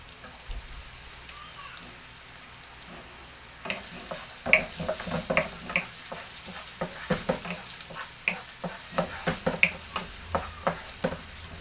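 Ginger and garlic for a squid dish in oyster sauce hit a hot pan and start sizzling steadily, close by. Spatula scrapes and taps come at a loose, irregular rhythm, and the sizzle builds louder after the first few seconds.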